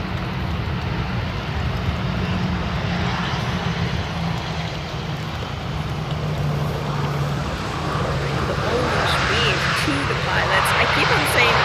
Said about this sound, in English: It's an Airbus A380 landing right over there.